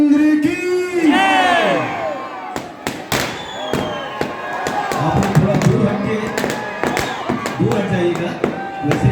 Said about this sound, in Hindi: इसमें कोई ऐसी आतिशबाजी नहीं डाली गई है जिससे किसी को नुकसान हो